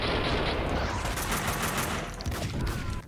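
Kalashnikov rifle fire in the video game Max Payne 2, a dense continuous fusillade of rapid automatic shots at close range, loud and sustained throughout with no talk.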